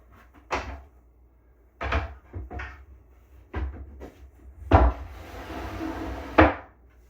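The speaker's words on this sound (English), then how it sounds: "Take my drawer, fit it inside." A wooden drawer being fitted into a cabinet, with several separate knocks and sliding thuds spaced out, close and fairly loud, including a longer scraping slide near the end.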